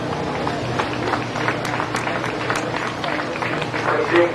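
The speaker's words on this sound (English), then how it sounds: "Let's give them a round of applause." Steady crowd clapping at a community fair beef cattle show, a continuous moderate patter with no voice standing out clearly above it.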